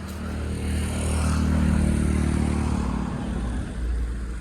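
A motorcycle engine drones steadily and loudly while climbing uphill on a mountain road, its revving rising slightly then settling as it labors under load, with no talking.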